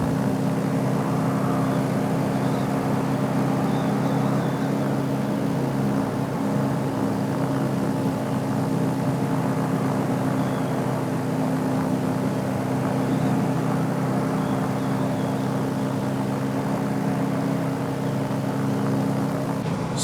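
Engine drone of the ORBX Blackwing BW 635RG aircraft in flight in the MSFS 2020 simulator, a loud, steady, unbroken hum with a low propeller-like buzz that lasts throughout.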